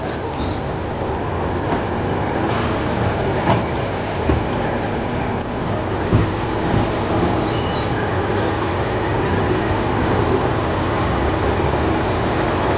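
A sleeper class train on the Udaipur to Ahmedabad route rumbles loudly and steadily through Talot railway station, wheels clattering over the rails with a constant carriage roar.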